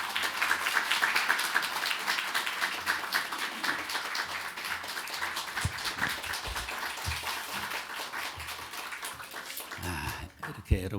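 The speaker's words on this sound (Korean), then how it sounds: "우리가 할 수 있는 최고의 박수, 큰 박수로 맞이하겠습니다." Church congregation applauding to welcome a pastor to the pulpit in a large Korean church, sustained broadband clapping filling the hall for several seconds before thinning out near the end.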